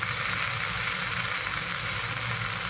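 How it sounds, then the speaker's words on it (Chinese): Fish skin pan-frying on low heat, a steady, even sizzle of oil, close and continuous with no voices. "所以我现在是转小火在煎皮的部分"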